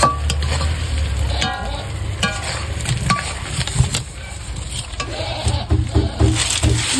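Mutton cooking in a pan at home, a constant sizzle broken by repeated clattering stirs and scrapes of a spoon, close and fairly loud.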